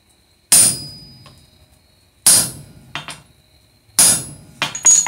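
Steel rivets on blacksmith scrolling tongs are domed with a stainless steel punch and hammer, giving loud, ringing metallic strikes in spaced pairs and groups, close and clear, with no talk.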